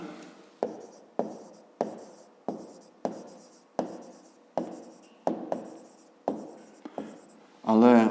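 A formula written by hand for a fifth-grade maths exercise on volume, a series of about twelve evenly spaced scratchy pen strokes, close and clear, ending in a brief burst of speech.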